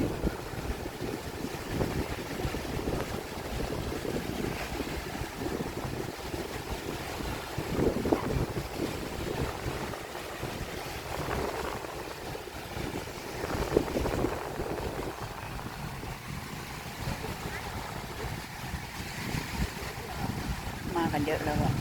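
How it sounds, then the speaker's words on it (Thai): Strong sea waves rolling in at Bang Saen beach in Chonburi on a windy evening, a continuous rushing surf wash mixed with gusty wind buffeting the microphone, with people talking nearby. "คลื่นดีคลื่นแรงมากอ่ะ"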